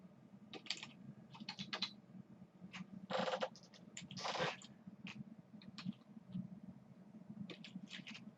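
Keys tapped on a computer keyboard in quick irregular bursts, close and fairly quiet, with a couple of louder clustered runs midway and no voices.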